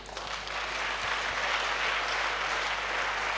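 Steady, dense applause from an audience at an International Women's Day program, honoring the organizers; a continuous wash of clapping holds at a moderate level throughout without voices on top.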